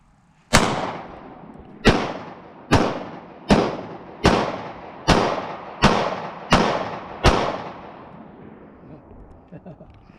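Nine sharp, loud gunshots from a Springfield XD .45 caliber pistol ring out at a steady pace, each blast close and followed by a short decaying echo, with faint sounds after the last shot.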